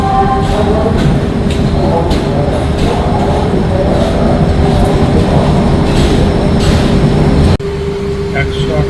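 The Puri Shalimar superfast express runs with a loud, continuous rumble and rattle of wheels and carriages, heard close up throughout, with a slight drop in level near the end.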